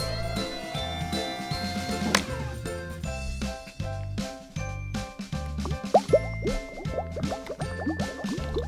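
Liquid poured during toy-truck repair play, a gurgling, dripping stream running for several seconds beneath bouncy, cartoonish music.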